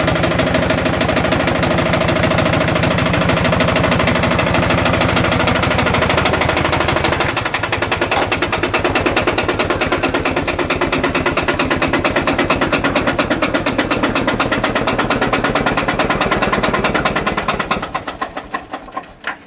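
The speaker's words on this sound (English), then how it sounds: "YRM 759, sort of local tractor, Cumbrian. The David Brown 2D." A Cumbrian David Brown 2D tractor engine runs at idle nearby, a loud, rapid, even chugging beat that carries on steadily before fading out near the end.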